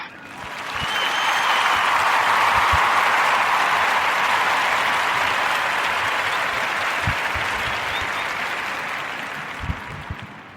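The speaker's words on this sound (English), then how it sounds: "we're gonna clap it up for Jamie Foxx" Sustained applause from a crowd, a broad, even roar of clapping that swells in, holds steady for several seconds and slowly fades, with no talking over it.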